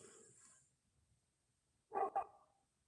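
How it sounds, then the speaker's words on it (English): A dog gives two quick, sharp barks in a row, heard at a distance after a stretch of near quiet. "Dogs are barking back."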